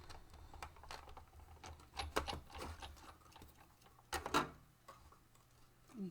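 A Stampin' Up die run once through a hand-cranked die-cutting machine, giving a steady series of soft clicks and ticks with a couple of louder creaks, close up and with no talking.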